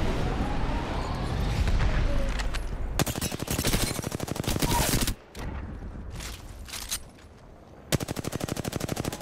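A Devotion machine gun in the video game Apex Legends fires long, rapid automatic bursts, loud and close, with brief gaps between the streams of shots.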